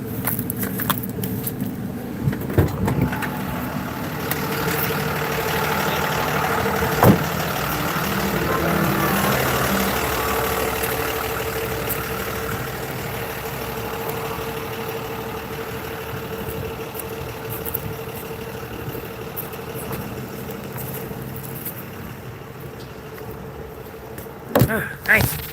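A parked car's engine idling in hot weather: a steady low hum with a faint tonal drone, a few thumps and rattles, and sharp clicks near the end, plus a brief voice.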